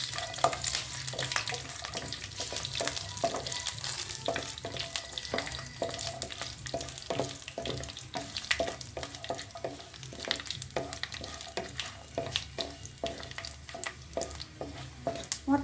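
Bay leaves and dried red chilies fry in hot oil with a constant close sizzle, while a utensil scrapes and taps the pan in a steady, repeated stirring rhythm. No one speaks.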